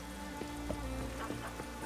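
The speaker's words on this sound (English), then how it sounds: "Oh, raining again." Rain falling in The Witcher 3, a soft continuous patter of drops on surfaces with faint scattered taps, low and even throughout and with no talking.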